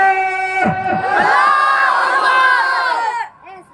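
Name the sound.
crowd shouting takbir in response to the preacher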